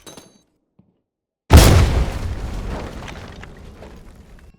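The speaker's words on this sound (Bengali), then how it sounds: "আহা গ্রেনেড আছে একটা, আমি গ্রেনেড মেরে দেখি।" A grenade goes off in the tactical shooter game Zero Hour during a residential house mission: one sudden loud boom after a near-silent pause, followed by a long rumbling decay with scattered debris crackle.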